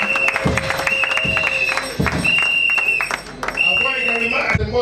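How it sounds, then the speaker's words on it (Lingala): An audience claps at an investiture ceremony for a customary village chief, with loud, continuous applause mixed with voices and a sustained tone. "On peut applaudir."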